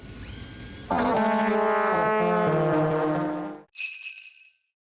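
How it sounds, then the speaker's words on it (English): A loud, droning cartoon horn blares for a few seconds with layered tones, then a brief high, thin toot follows before fading out. "Elves like tooting their horns"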